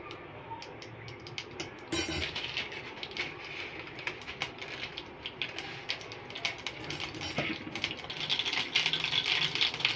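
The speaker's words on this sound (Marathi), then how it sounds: "मोहरी फुटलेली आहे, आता आपण त्याच्यामध्ये अर्धा चमचा जिरे टाकू।" Mustard seeds splutter in hot oil in a heated kadai for a buttermilk kadhi tempering, giving rapid crackling pops that burst in sharply and grow denser and louder toward the end.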